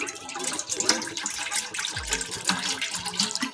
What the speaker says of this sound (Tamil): ஜிஞ்சர் ஜூஸ்க்கு 1 டம்ளர் தண்ணி எடுத்துக்கலாம்.